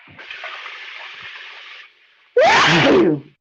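A single loud, sharp sneeze bursts out after a stretch of soft, watery hiss, then stops abruptly.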